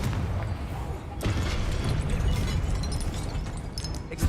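A Confringo fire spell bursts in Hogwarts Legacy with a sharp crack and rumbling explosion, then a second boom a moment later amid ongoing combat noise, loud and close.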